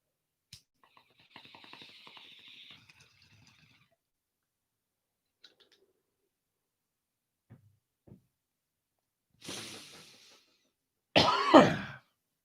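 A man reading a novel aloud clears his throat and coughs, a few faint scattered throat sounds followed by a louder burst of close coughing at the end.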